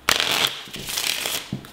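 Quest cards from The King's Guild board game, made of good quality cardstock, are riffled close up in quick papery bursts, a few short shuffles in a row with no talking.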